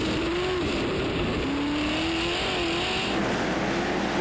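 Sprint cars race on a dirt short track at night, a continuous loud engine roar with the pitch rising and falling as the cars accelerate around the oval.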